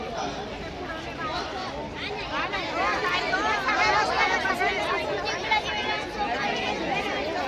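A large crowd at a protest march in Nashik against the splitting up of the state electricity distribution company fills the air with dense, overlapping chatter and babble, many voices talking at once at close range.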